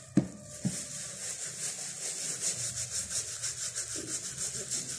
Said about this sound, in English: We're just gonna rub it in to the hair.